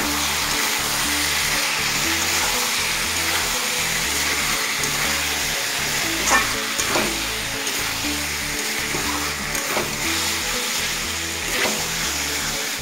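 Whisked yogurt added to jackfruit curry sizzling in a pan makes a steady bubbling hiss with a few sharp crackles and light clinks, continuous and close with no talk.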